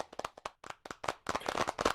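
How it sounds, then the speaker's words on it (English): An audience at the KTP Best of the Best Awards 2020 claps, starting with a few sharp, separate hand claps that quickly thicken into closer, denser applause, loud and near. "just give them a big round of applause"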